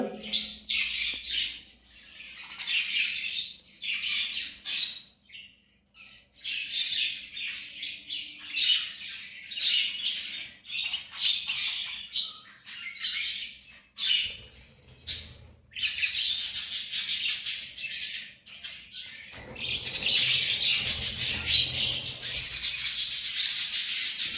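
Small birds chirp and squawk in busy, overlapping bursts close by, with brief pauses between calls, growing denser and louder toward the end as the calls merge into a continuous chatter.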